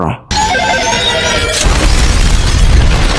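A single loud, close explosion booms, followed by a deep rumbling roar that lingers and fills the air.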